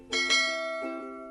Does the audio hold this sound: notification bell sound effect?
yes